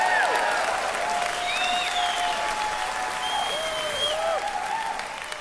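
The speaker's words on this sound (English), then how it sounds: "There was a whole section of the crowd here, cheered, and none of the rest of you." Part of a concert hall audience at a live folk-rock show claps and cheers, a dense burst of applause with whistles rising over it, fading slightly toward the end.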